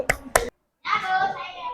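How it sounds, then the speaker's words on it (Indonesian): Children in an elementary classroom give applause: two sharp claps, a brief pause, then a sustained burst of clapping and excited young voices. "Tepuk tangan untuk Livi."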